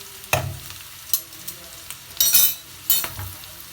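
Spices like turmeric, coriander powder, chili powder and salt are stirred into hot oil in a pan, giving a soft sizzle broken by a few sharp scraping clatters of the spoon against the metal.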